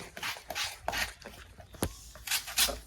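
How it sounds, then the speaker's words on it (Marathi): An onion being grated by hand at home gives close, uneven rasping strokes in short bursts, scraping against the grater with small knocks in between, with no talk. "आपण कांदा किसत आहे"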